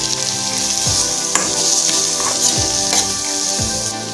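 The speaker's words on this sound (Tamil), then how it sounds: "பொடியா நறுக்கி வச்சிருக்கிற பெரிய வெங்காயம் கொஞ்சம் ஆட் பண்ணிக்கோங்க" Chopped onions sizzle and crackle in butter in a kadai, a steady close frying hiss with occasional stirring scrapes and pops.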